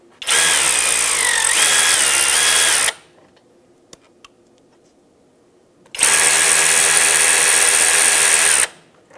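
Electric ratchet spinning off brake caliper bolts on a 2007-2017 Jeep Compass, two loud sustained whirring bursts of about three seconds each, separated by a quiet gap with a couple of faint clicks.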